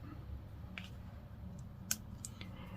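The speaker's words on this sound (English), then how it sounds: "So I'm going to take my scissors." Scissors cutting a piece of paper card while making a car-themed greeting card, giving a few faint, crisp snips spaced over a few seconds in a quiet room with no talking.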